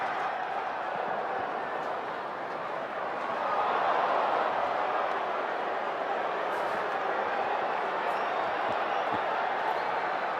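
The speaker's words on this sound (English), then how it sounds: "Some boos at times." Baseball stadium crowd during a Colorado Rockies versus Los Angeles Dodgers game, a broad, steady wash of distant crowd noise with swelling murmurs that could carry scattered boos, continuous throughout without a clear break.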